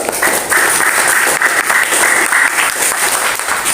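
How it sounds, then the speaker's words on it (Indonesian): Classroom applause for a student group, a steady dense wash of many hands clapping close by, sustained and loud throughout with no talk over it. "aplaus untuk kelompok 2"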